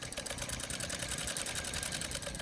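A Singer 185 sewing machine stitching fabric, its needle running in a fast, steady mechanical chatter of rapid even clicks, close and clear with no voices.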